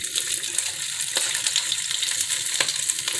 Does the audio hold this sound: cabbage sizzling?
yes